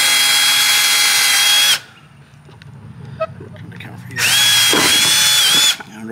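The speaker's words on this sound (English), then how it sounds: "So we're actually going to drill" A power drill bores into a fiberglass speaker pod for an OBS truck in two loud, close, whining bursts of under two seconds each, with quiet handling noises and a short pause between them.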